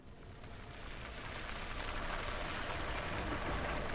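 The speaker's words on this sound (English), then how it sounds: "So a car just pulled up." A car engine rumbles steadily and grows gradually louder as the vehicle approaches and pulls up in a survival horror game, a low, continuous drone with no talk over it.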